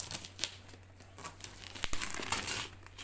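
Plastic bag wrapping around a white Emsan Bella Gusto 1300 W stand mixer crinkles and rustles during unboxing, in close, uneven bursts of crackling with no voices.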